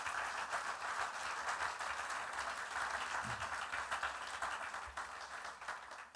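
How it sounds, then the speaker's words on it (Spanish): A church congregation claps together in a sustained, dense round of applause offered to the Lord, steady throughout and fairly faint. "Ofrenda de aplausos al Señor"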